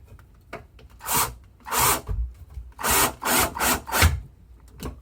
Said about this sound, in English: I can take my screw, put it on the end of the screwdriver.